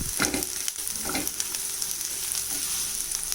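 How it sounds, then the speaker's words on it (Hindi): Grated ginger and onions sautéing in a pan, a close, steady oil sizzle with a few sharp stirring scrapes near the start, no voices. "1 मिनट इसको भी सौटे कर लेते हैं"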